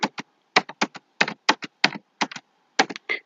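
Quick bursts of keystrokes clatter on a computer keyboard, close and crisp, in short uneven clusters with brief pauses between them.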